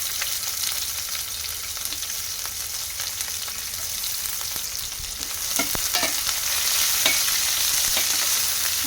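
Onion pieces frying in hot oil with mustard seeds and cumin, a dense steady sizzle with scattered crackles and pops and a few stirring clatters, close and without talk.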